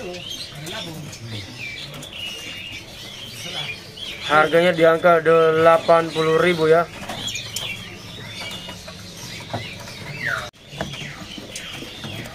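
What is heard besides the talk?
birds chirping at a bird shop kiosk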